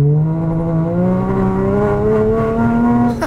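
Porsche drift car revving hard while its tires spin for traction, a loud close engine whine climbing steadily in pitch, then a brief drop at the end.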